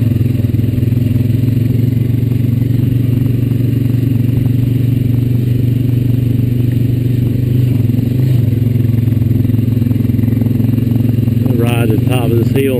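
A Honda Rancher 420 ATV engine drones steadily and loudly while riding a washed-out rocky trail, with constant rumble and clatter of rocks under the tires throughout.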